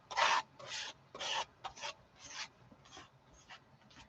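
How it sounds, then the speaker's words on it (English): Paint scraped across an art journal page for stenciling, heard as about eight short, close raspy scraping strokes in an uneven rhythm, alone in a quiet room. "I'm just going to scrape some paint."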